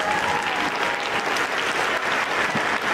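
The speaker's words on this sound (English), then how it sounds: "thank you so much for the round of applause already" A room full of youth summit attendees on their feet clapping, a dense, loud, continuous wash of applause holding steady throughout.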